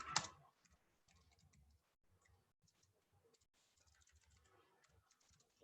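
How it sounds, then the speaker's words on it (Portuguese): Quiet, close typing on a computer keyboard, an irregular patter of soft key clicks after a sharp opening knock, with no talking. "Deixa eu digitar aqui, depois eu vou explicar isso."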